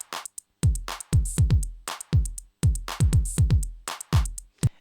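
Repeated electronic kick drums played back in a digital audio workstation, each punchy low thump with a falling pitch sweep, arriving in loose rhythmic clusters alongside brief brighter percussive hits, loud and close with no voices.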